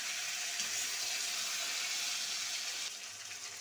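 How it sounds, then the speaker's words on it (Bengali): Water goes into a pan of small-potato curry (aloo dum) that is being fried, making a loud, steady rushing hiss that eases off slightly near the end. "জল দিয়ে দেবো।"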